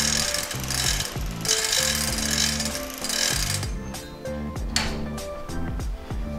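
A longarm quilting frame is rolled up, giving a loud series of ratcheting clicks and mechanical clunks that come in repeated bursts.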